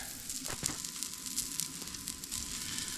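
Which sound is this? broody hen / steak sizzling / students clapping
steak sizzling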